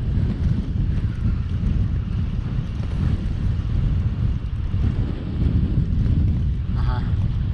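Steady wind buffeting the microphone on a windy autumn day of fishing for carp outdoors, a constant rough low roar with no pauses.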